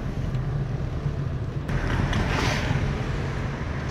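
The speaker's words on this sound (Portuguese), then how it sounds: "vamos acelerar um pouquinho" Car engine revving up as a driving-lesson car gains speed and shifts up through the gears, a steady low rumble with a rise in brighter noise partway through, close and continuous with no talking.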